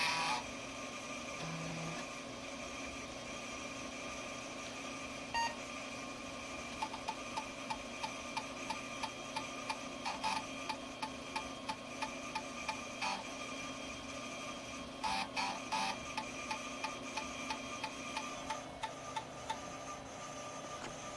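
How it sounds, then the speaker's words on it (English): An old 5 1/4 inch floppy disk drive for a PC running, giving a steady mechanical hum with a regular train of faint ticks and clicks from the head stepping, heard close and alone. "I've never actually owned a 5 1/4 inch floppy disk drive for PC"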